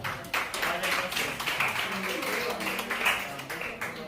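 Pupils and audience at a primary-school maths quiz competition clap for the contestants, a steady, moderately loud round of many hands, with some voices mixed in.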